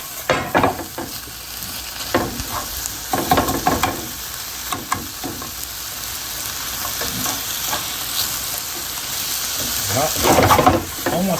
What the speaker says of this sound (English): then just pan fry the pork and then mix the veggie